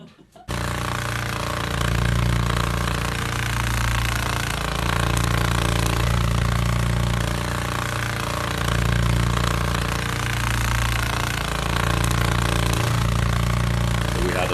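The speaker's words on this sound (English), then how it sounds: "lawnmower and the decimation of foliage." A loud, steady lawnmower engine drone with a low throbbing hum and gritty rattle, running continuously up close with slight swells in intensity.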